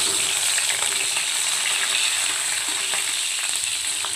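Sabudana khichdi frying in a pan on low flame, a loud, even, continuous sizzle and crackle filling the whole stretch with no voices.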